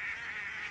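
Ducks honking in a TV show, a steady nasal honking call held for under a second, fairly clear and alone with no talking.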